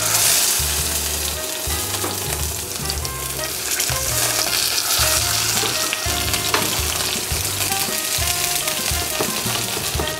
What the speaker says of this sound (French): je vais déposer le poisson côté peau, juste pour le marquer